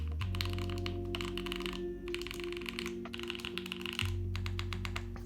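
Mechanical typing on a HEX4B keyboard, a steady run of close clicky keystrokes over a low electrical hum, with a short pause in the middle.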